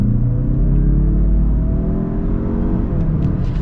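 A 2021 Mazda CX-30 Turbo Premium Plus accelerates hard, its engine drone rising steadily in pitch, loud and close with a continuous low rumble and no pauses.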